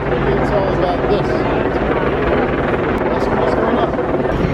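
Helicopters flying over San Francisco make a loud, steady rotor drone that stays constant throughout, with voices talking beneath it.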